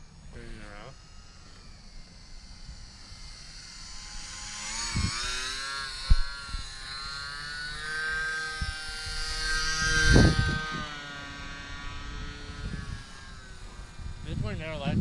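A small Horizon Hobby UMX radio-controlled model plane flies overhead, its electric motor a thin, steady whine that rises and falls in pitch as it banks and turns, with people talking throughout.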